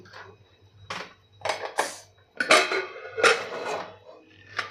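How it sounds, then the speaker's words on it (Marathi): Metal clanks and clatters of a pressure cooker lid being opened, several sharp knocks spaced unevenly, with a quiet low hum underneath. "आता आपण कुकर खोलून घेऊ"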